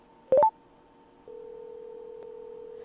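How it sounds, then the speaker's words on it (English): A Cardo Packtalk Outdoor intercom redials by voice command: a quick cluster of dialing beeps, a short pause, then a steady, clean electronic calling tone that holds to the end, with no talking. "To activate the redial functionality, which is obviously calling the person that you called last"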